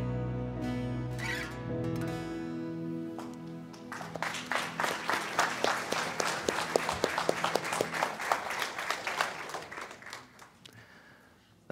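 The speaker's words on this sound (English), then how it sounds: "And let's give another round of applause to Tim and Jewel." Audience applause after a song at a Good Friday church service, beginning softly and swelling into dense, steady clapping from a crowd, then gradually fading toward the end.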